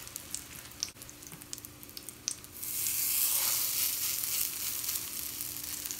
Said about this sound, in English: I'm just gonna lay my burger right down into the skillet.